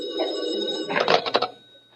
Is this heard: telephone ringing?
yes